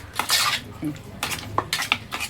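Rava (semolina) cake batter being mixed in a bowl, with a spoon scraping and clinking against the sides in irregular strokes, close and moderately loud.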